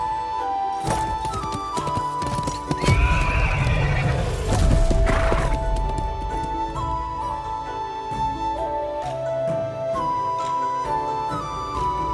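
A horse neighs loudly and hooves clop in the video game Love and Deepspace, heard over steady melodic background music.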